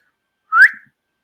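A single quick, straight-line whistle, imitated by a person as a sound attributed to Bigfoot heard near a camp in Kentucky, rising slightly and lasting about a quarter second, clear and alone against silence.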